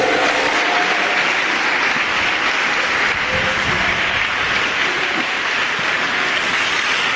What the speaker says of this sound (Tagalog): Palakpak ng tagumpay!